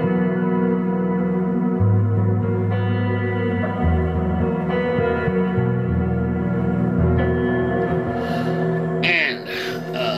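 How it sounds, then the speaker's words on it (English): Guitar notes wash through a Specular Tempest reverb pedal, sustained chords blooming into a thick, lingering reverberant tail that fills the space, loud and continuous with no talking. "I've been using the Specular Tempest, which is a beast of a reverb pedal"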